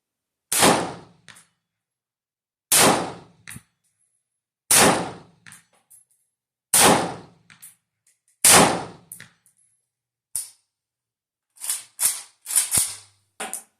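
Unsuppressed shots from a PSA AK101 rifle with a muzzle device, rapid sharp cracks spaced about two seconds apart at close range, followed by a few quicker, softer reports near the end.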